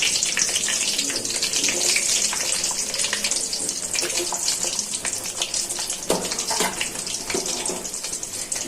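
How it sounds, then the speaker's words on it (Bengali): Chopped onions frying in hot oil in a cooking pot, a continuous loud sizzling hiss with occasional crackles, close by and without speech. "এখন তেলটা ভালো করে গরম হয়ে গেছে, পেঁয়াজ কুচিগুলো দিয়ে দিচ্ছি।"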